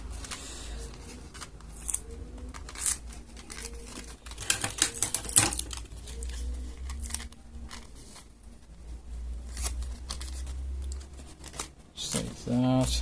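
Scissors snip through paper while cutting out the upper jaw for a Kermit the Frog paper puppet, in close, irregular cuts and rustles, with a person talking over parts of it.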